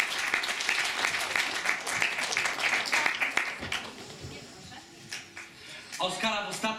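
Audience applause at the Małe Oskary 2018 award ceremony as a winner is honoured: steady dense clapping from a crowd that thins and fades toward the end while a presenter speaks over it.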